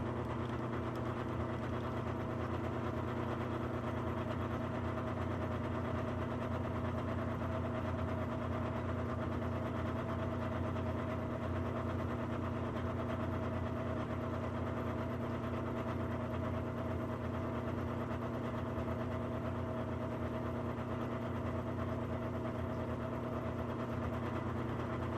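A metal lathe machining brass case rims, with the cross slide fed in to thicken and form the rim: a steady, continuous motor hum with a constant mechanical drone that carries on alone with no pauses.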